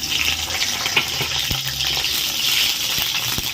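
Finely chopped garlic hits hot oil in a pan for fish curry, making a close, steady hiss of sizzling speckled with small pops and crackles.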